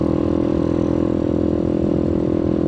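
A 2020 Boom Vader motorcycle with a rebuilt engine and 141 big bore kit hums loud and close while riding, a steady droning engine note held at constant revs with no talking.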